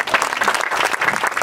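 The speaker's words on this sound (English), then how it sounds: "clap it up for me." Audience at a comedy stand-up set applauds in a dense, steady wash of clapping that fills the whole stretch at close, loud level, with no voices breaking through.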